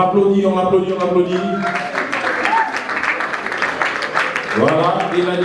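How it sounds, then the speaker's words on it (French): Applause from the audience at an evening awards ceremony where a peace ambassador is honoured, a dense burst of clapping filling the middle of the clip between stretches of a voice talking. "On applaudit, on applaudit, on applaudit"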